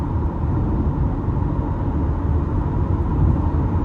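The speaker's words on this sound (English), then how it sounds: "You can hear the tires a tad bit" Inside a 2027 Chevrolet Corvette Stingray Coupe 1LT cruising on the interstate, a steady low road and tire roar fills the cabin, constant and even with no voices.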